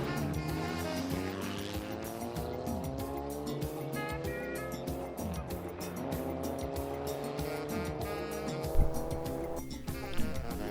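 Tuned MK5 VW GLI racing against Subaru WRXs, engines revving up and shifting in repeated climbing sweeps, tires squealing, with a sharp thud near the end, recorded from close by.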